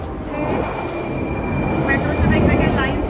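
A London Underground Piccadilly line train rumbles steadily nearby, its low roar building slightly with a thin whine on top, while people talk over it.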